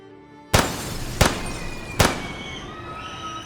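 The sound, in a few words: gunfire echoing through school hallways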